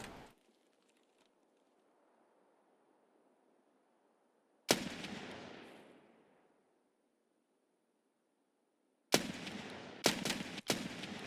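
Gunfire in the video game Escape from Tarkov (SPT): a single loud shot with a long decaying echo, then quiet, then a quick cluster of three sharp shots near the end, each ringing off, over a faint background hum.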